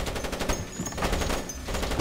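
Dense gunfire in the stealth game Splinter Cell, rapid continuous bursts that overlap and fill the whole moment at a steady, loud level.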